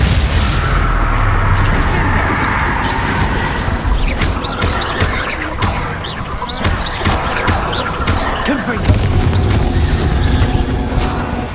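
Explosive blasts from the Confringo spell in Hogwarts Legacy, set in a cavern: repeated loud bursts and crashes over steady background rumble and music, with faint voices.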